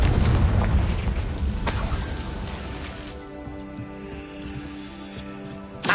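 Confringo fire-blast spell in the Hogwarts Legacy video game erupts in a loud, rumbling explosion with bursts near the start and around two seconds, then rolls into a long fading tail of low debris and ambience.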